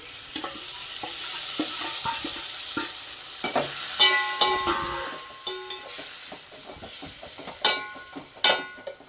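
Chopped tomato pieces go into a pan of fried onions for a bitter gourd masala curry, bringing a steady sizzle with intermittent scraping and clattering of a stirring spoon and a few sharper knocks near the end.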